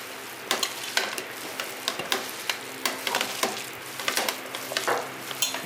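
Snack batter of gram flour and salt is stirred and mixed by hand in a bowl, giving a continuous wet, gritty churning with frequent soft clicks, close and alone.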